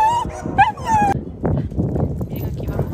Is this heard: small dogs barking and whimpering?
yes